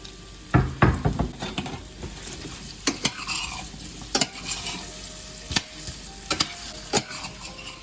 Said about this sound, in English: We're gonna put our potatoes in now. We're gonna fry those for a few minutes before we put the onions in.